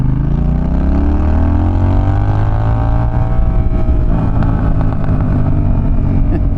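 A loud Honda Rebel 1100 DCT motorcycle engine roars close by, its pitch climbing steadily as it accelerates, then shifting to a rougher tone as it changes gear.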